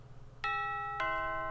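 A doorbell chimes twice, two clear bright tones about half a second apart, each ringing on and sustaining over a low steady hum with no voices.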